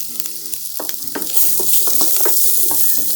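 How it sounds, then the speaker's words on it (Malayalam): Beans sautéing in a hot pan while vegetable biryani is being made, giving a steady close sizzle with frequent scraping stirs and light clinks, no talking. "ഇനി നമുക്ക് ബീൻസ് ഇട്ട് കൊടുത്തിട്ടുണ്ട്. ഇത് നമുക്ക് ചെറുതായിട്ടൊന്ന് വഴറ്റിയെടുക്കാം."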